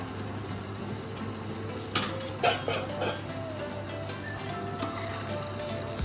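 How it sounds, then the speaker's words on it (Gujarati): Cooked rice tipped into a pot of veg Hyderabadi biryani and gently mixed, with a few soft clatters and scrapes around the middle over a steady kitchen hum. "હવે આપણે જે રાઈસ બાફેલા છે તે એ ધીમે ધીમે કરીને એડ કરી દઈશું"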